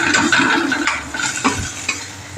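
Bitter gourd frying in a pan, with a close, fairly loud sizzle and spatula stirring scrapes over a few seconds. No voices are heard.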